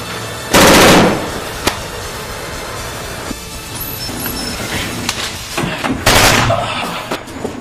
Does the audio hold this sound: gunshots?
yes